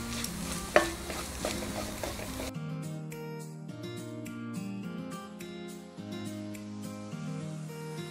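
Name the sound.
spices frying for egg rice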